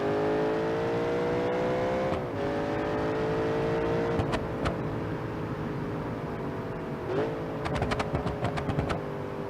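In BeamNG.drive, a V8-swapped Rotsun 200bx with nitrous accelerates hard, its engine droning loudly and rising in pitch, with audible gear shifts that drop the tone before it climbs again.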